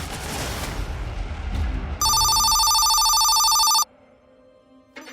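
A telephone rings in one loud, sustained electronic burst of about two seconds, following a stretch of rumbling, noisy sound and giving way to quieter background.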